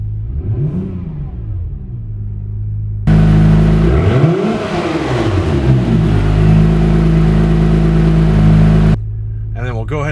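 A 2019 Acura NSX exhaust note as the engine revs up from idle, first subdued, then a loud sustained rise and fall in pitch with a deep steady drone, cutting off abruptly before a brief clattering settle.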